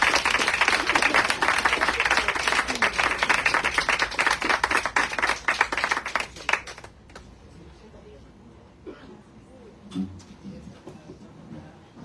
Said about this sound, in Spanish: un aplauso, que se desangren las manos